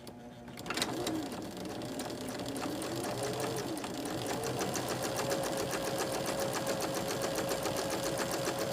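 A sewing machine stitches a quilt seam a quarter inch from the edge, its rapid needle chatter running steady and close after a short start, with no talk over it.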